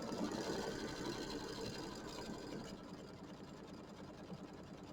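A sewing machine runs steadily as it tacks down quilt fabric backed with shaped flex, a continuous close mechanical whir with a slight drop in level partway through and no talk.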